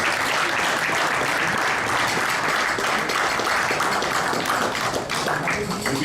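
Sustained applause from a crowd at a cricket banquet, dense and steady for several seconds, with a faint voice underneath.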